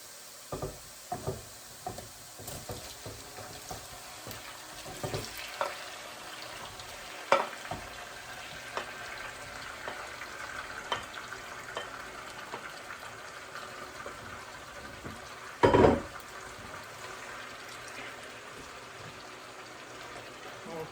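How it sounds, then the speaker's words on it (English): Tomatoes go into a pan of cooking garlic for a homemade Italian tomato sauce, giving a soft, steady sizzle at close range with scattered stirring knocks and one brief louder burst. "at this point, I'm going to add the tomatoes"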